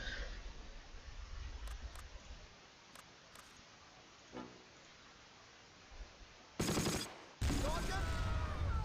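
Artillery strikes in the Close Combat wartime strategy game: a few scattered faint pops over a steady rumble, then two loud, sustained blasts of explosions near the end.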